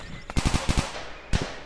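Gunfire in Sasti GTA 5, an Android game: a rapid burst of several loud, close shots, then two more shots and a single final blast after a short pause.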